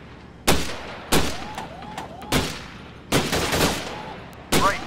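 Pistol shots in the Gun Club VR game ring out as about seven sharp, loud cracks at irregular intervals, some in quick pairs, each trailing a short echo.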